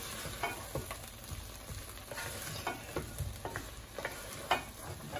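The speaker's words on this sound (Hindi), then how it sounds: "ये हमें फ्राई करते हुए 2-3 मिनट हो चुके हैं" Okra (bhindi) fries steadily in a pan, giving a continuous close sizzling crackle with occasional light stirring taps, moderately quiet and without voices.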